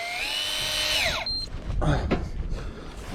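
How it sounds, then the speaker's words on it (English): A fishing reel's drag buzzes as line strips off during a fight with a halibut offshore, a steady high whine that cuts off partway, followed by splashing and rustling noise close by. "Better tighten my drag a little."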